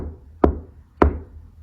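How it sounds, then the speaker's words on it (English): Two sharp, hollow knocks on a floor, spaced roughly half a second apart, near and distinct against a quiet background. "Ray and her husband tentatively knock on what seems to be the floor."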